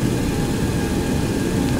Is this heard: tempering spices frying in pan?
no